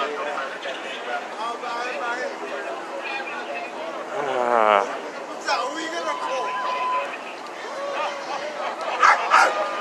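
A dog barks and yips amid a busy crowd at a street action in New York City, the yaps mixed under constant chatter and overlapping voices.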